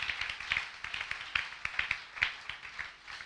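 A congregation at a church service in Kolwezi claps in praise, a fairly quiet, brisk run of uneven hand claps with no voices over them.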